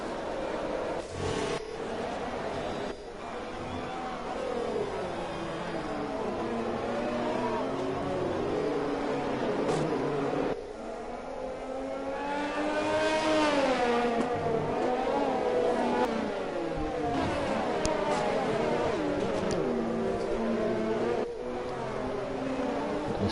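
Race car engines rev and whine with rising, sweeping pitch as cars set off on a formation lap at Singapore in a racing video game, a steady loud roar throughout with no talk.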